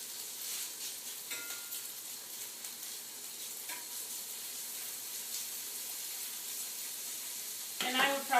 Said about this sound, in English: you're going to let the bacon brown